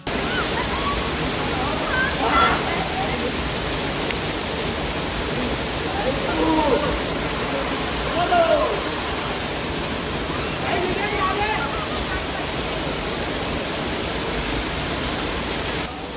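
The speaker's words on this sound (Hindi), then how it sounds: "अब नेक्स्ट शॉट सीधा आपको वाटरफॉल का दिखाएंगे" A waterfall near Rishikesh, on the way to Mini Gartang Gali, roars steadily and loudly up close, a dense unbroken rush of falling water that holds constant throughout.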